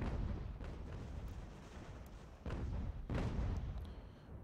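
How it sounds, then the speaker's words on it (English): Artillery fire rumbles in an Ultimate General: American Revolution battle, a dense continuous bed of distant cannon booms with two heavier blasts standing out near the end. "Got a nice backing of artillery here behind this wood line that should hopefully help keep the enemy at bay"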